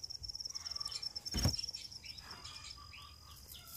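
Crickets chirp in a sand-lined egg-laying box at a breeding setup, a thin, steady high trill running throughout with a brief thump partway through.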